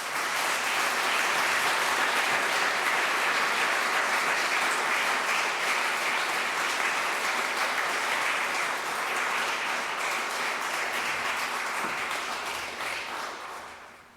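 Sustained applause from a lecture audience welcoming the Reverend Canon Dr. William Lamb to the Cheney Lecture, a dense even clapping that holds for about thirteen seconds before fading out, no voices over it.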